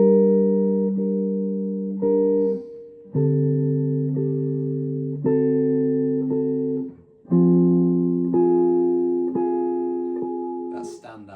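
Guitar chords played in separate strums, each ringing out for a second or two before the next, with a prominent note voiced in the middle of the chord; clear, close and alone without talk.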